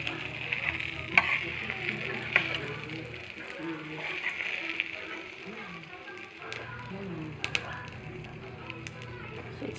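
Eggplant omelette (tortang talong) frying in a pan with a steady, soft bubbling sizzle throughout, a few sharper crackles and pops rising above, and faint low background noise.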